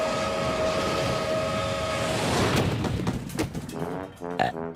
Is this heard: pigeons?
no